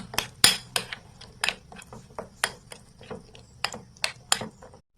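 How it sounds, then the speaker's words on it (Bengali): Bottle gourd chutney being mixed with salt using a utensil, giving sharp, irregular metallic clinks and taps against the bowl, close and fairly loud, about a dozen strikes with no talk. "সবটি ভালোভাবে মিক্সড করে নেব।"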